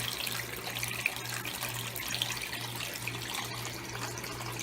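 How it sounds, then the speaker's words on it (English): Water pours steadily through filter media into a 300-gallon axolotl stock tank, a soft, continuous trickle and splash close by with a faint low hum beneath and no talking. "it definitely softens the flow of the water going into the tank."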